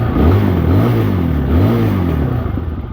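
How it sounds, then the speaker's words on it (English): A Chinese dual sport motorcycle engine revs up close and loud, its pitch rising and falling in several surges over a steady throaty rumble, with no talk. "Should be able to rev it up"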